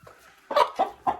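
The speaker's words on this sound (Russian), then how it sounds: "А теперь посмотрите, что куры прекрасно несутся в гнездо" Domestic hens in a henhouse give three short, close clucks in quick succession, with soft rustling before them and no talking.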